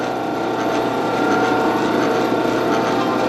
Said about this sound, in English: So you can see it's starting to cut a thread, and then I'll use that gutter there, shut the lathe off.